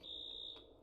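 A single sustained high electronic tone from a fire alarm in the DeadMatter video game sounds at moderate volume, then cuts off, leaving a low hum.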